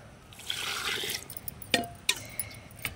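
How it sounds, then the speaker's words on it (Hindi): Water is poured from a large bowl into a pressure cooker of colocasia (taro) leaves set for boiling: a brief rushing splash up close, then a few scattered drips and small clinks. "इस बड़े कटोरे से मैं इसमें 2 कटोरे पानी डालूंगी उबालने के लिए पत्तों को"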